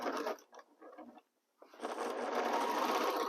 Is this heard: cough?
no